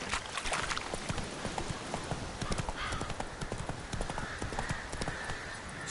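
Roach, a horse in The Witcher 3, clip-clops along at a steady trotting rhythm, hooves striking close and loud over continuous ambient game noise, with no talk.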